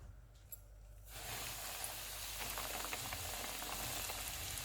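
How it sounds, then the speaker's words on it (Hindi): Flour-coated chicken pieces for zinger burgers drop into hot oil and fry, a loud, dense crackling sizzle that starts abruptly after a quiet second and continues steadily, close by. "अब इसको हम फ्राई कर लेते हैं।"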